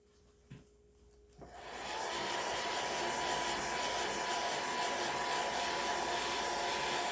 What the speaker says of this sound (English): Now I'm just going to run the blow dryer over it for just a second.